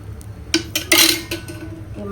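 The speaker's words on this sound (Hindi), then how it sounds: "पराठे पका दे रही हूँ।" Maida parathas cooking in a pan in a home kitchen, a few loud metallic clinks and scrapes of utensil on pan, with a brighter clattering burst in the middle, then quieter.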